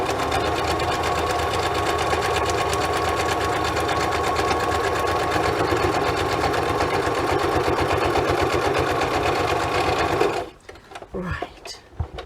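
A sewing machine stitches across the top of a paper pocket booklet, running loud, steady and continuous for about ten seconds before it stops, leaving a few small handling sounds.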